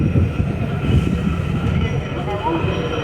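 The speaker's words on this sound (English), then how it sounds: "until the train makes its full and complete stop" A Disney World train, near the Animal Kingdom entrance, slows to a stop with a loud, close rumble of wheels and carriage and faint squeals, while a voice talks over it.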